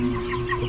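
Newly bought Rhode Island Red chicks cluck and cheep in a brief, close burst of soft bird calls.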